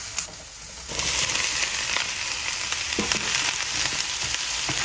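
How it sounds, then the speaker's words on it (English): Zucchini, onions and red peppers sizzle loudly in a pan for breakfast burritos, a constant close hiss of frying with the scrape and stir of mixing throughout. "Mix the zucchini with the onions, red peppers. Mix all that together."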